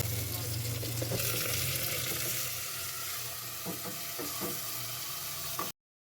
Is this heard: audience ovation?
no